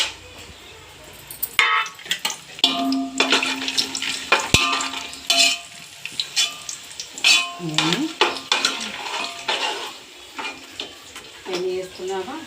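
Whole spices and nuts for biryani (cinnamon, cloves, star anise, cardamom, cashews) sizzle in a pan, with repeated clinks and scrapes of a metal spoon stirring against the pan, close and busy throughout.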